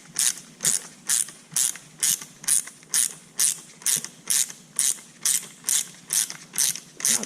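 A ratchet wrench with a socket working on a BMW F30 340i AWD during a lowering spring install, about eighteen evenly spaced clicking strokes in a steady rhythm, close and clear with no talking.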